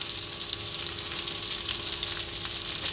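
Onions frying in a pan on low heat with garlic ginger paste, a steady close crackling sizzle that continues evenly without talk.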